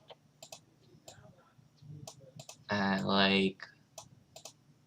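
Quick, light clicks of a mouse or spacebar during a Diep.io game, scattered and fairly close, with soft talking around them and one short loud voiced burst near the middle.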